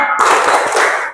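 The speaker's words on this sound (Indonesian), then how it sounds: "Tepuk tangan fokus" A final short burst of group clapping in an ice-breaking focus chant, a dense, loud smack of many hands together lasting about a second before fading.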